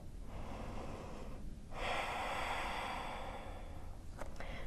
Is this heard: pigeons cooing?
no